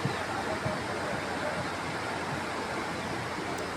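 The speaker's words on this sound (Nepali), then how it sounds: "तपाईको यो त्रिशुली खोला" The Trishuli river in Nepal, swollen after rain, rushes with a loud, continuous broadband roar of turbulent water, steady throughout with no clear voices.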